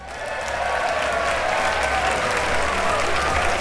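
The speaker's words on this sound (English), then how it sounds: "The chamber burst into applause." Sustained applause fills a government chamber during a ceremony honoring a recipient of the Order of Chinggis Khan, a dense, steady wash of clapping from many hands that holds at full strength throughout.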